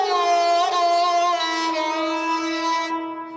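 A sarangi, the bowed Indian string instrument, plays a sustained morning raga phrase evoking sunrise, its rich harmonic tone gliding slowly and steadily, alone and close, fading out near the end.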